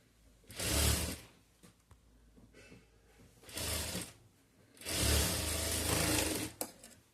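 A sewing machine stitching a blouse runs in three separate bursts, each lasting about one to two seconds, loud and close, with quiet pauses between them and no talking.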